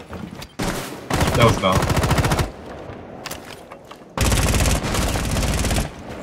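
Rapid automatic gunfire in Rainbow Six Siege on the Chalet map, loud sustained bursts cutting in and out with quieter gaps, a brief spoken comment between them.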